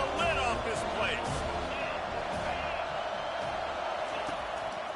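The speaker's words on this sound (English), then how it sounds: "this crowd is tearing the lid off this place" Loud stadium crowd roars steadily throughout in a baseball video game, MLB The Show, a dense wash of cheering with whoops and scattered claps, heard close and continuous.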